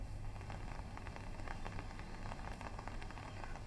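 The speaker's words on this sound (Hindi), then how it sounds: "कल रात से बारिश हो रही है" Steady rain falling in the aftermath of Cyclone Tauktae, a continuous even hiss of drops on surfaces with scattered brighter patters, fairly close and unbroken, with no voices.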